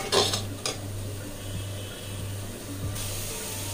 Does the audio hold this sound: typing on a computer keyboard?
no